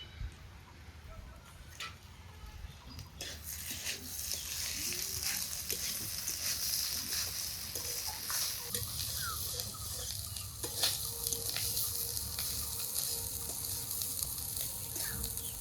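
Washed rice and peas fry in a pan for pilaf, a soft, continuous sizzle with intermittent stirring clicks and scrapes, no voices.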